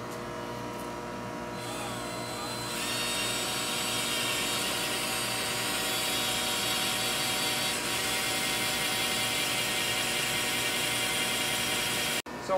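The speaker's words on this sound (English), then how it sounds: "we're going to go ahead and drill this drive" A power drill bores steadily into an old hard drive, a loud sustained whine with a grinding, rattling edge that runs almost unbroken for about ten seconds, then cuts off abruptly at the end.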